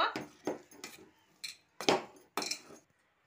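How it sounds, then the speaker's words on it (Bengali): Boiled potato mashed by hand in a bowl for egg puri: five short, separate squelching presses with light dish clinks, close and moderately loud, with no talking. "আলুটা প্রথমে আমি এইভাবে ম্যাশ করে নেব।"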